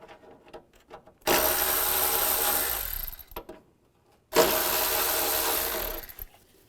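Two bolts on a 2005-2010 Chevrolet Cobalt are loosened with a 13mm socket: two sustained bursts of a power ratchet whirring, each about two seconds long, separated by quiet handling clicks.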